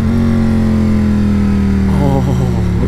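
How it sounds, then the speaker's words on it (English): A 2018 Ducati Panigale V4S motorcycle engine drones loudly and steadily up close, then its revs fall away over the final second. "the glory that is this bike just going down in revs. It sounds nuts."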